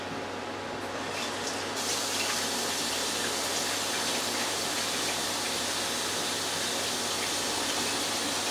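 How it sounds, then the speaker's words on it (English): A kitchen tap runs steadily while hands are washed under it, a close, loud and even rush of water with no talk. "let me wash my hands."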